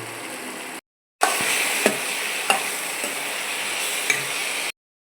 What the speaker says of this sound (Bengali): পেঁয়াজ ভেজে নেওয়া হচ্ছে, মশলা দিয়ে দেওয়া হচ্ছে, আদা রসুন কষে নেওয়া হচ্ছে।